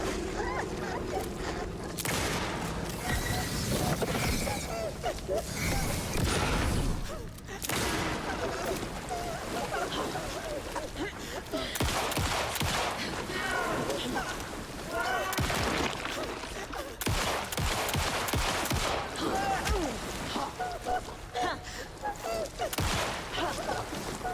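Repeated gunfire at an enemy in Alan Wake II, a dense sustained run of loud shots and booms mixed with game music and someone talking over it.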